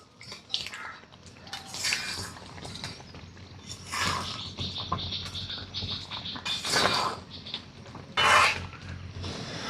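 Raw mango pickle being stirred with spices in a metal pot, giving light scraping and clinking spoon-on-metal knocks in irregular bursts, near and moderately loud, with no talking.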